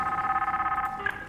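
Phone ringing in the sci-fi horror game Soma, a steady electronic ring tone with layered harmonics sounding continuously, then a brief bright chirp at the end, no talk over it.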